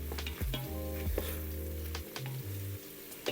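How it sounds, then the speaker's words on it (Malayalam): Onions and tomatoes sauté in an electric pressure cooker set to normal sauté mode, a continuous near sizzle with stirring scrapes over a low humming tone that shifts in pitch. "നമ്മുടെ സബോളയും തക്കാളിയും എല്ലാം ഇങ്ങനെ വഴന്ന് വരുവാണ്."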